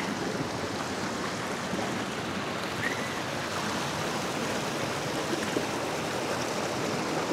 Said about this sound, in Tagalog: Ganda ng daloy ng tubig.